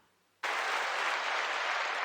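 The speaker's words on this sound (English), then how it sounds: "That's the applause." An applause sound effect cuts in abruptly after a short quiet moment, a steady, dense wash of clapping that holds at an even level until the end, with no talking.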